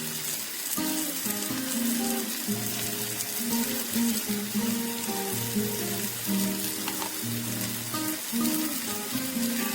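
Ghee sizzles steadily in a pan with raisins and a little sugar, a continuous bright crackle with faint scraping and clinking beneath it and no talking.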